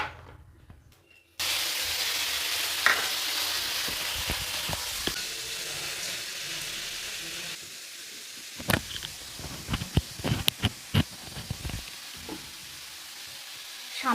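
Oil sizzles in a kadai while a Bengali-style mixed fried rice is cooked, a dense steady frying hiss followed by sharp clinks and scrapes of stirring.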